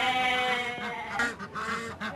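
Geese at a farm petting zoo honk and call close by in a short burst of harsh, nasal cries, several overlapping calls within two seconds.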